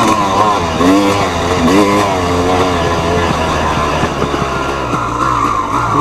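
A motocross bike fitted with a Chinese carburetor ridden at a dirt MX track in Puget-Ville, Var, its engine close and loud, revving up and down in rising and falling waves throughout.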